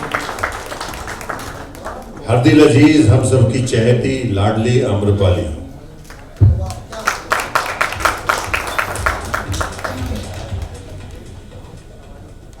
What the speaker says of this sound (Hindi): जोरदार ताली काजल जी के लिए